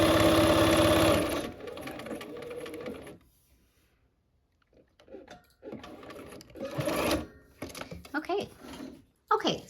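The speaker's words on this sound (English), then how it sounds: "we'll go about one more stitch and back that up" A sewing machine runs in a fast whirring burst, stops, then stitches again in short stop-start runs as it backstitches, heard up close with quiet gaps between.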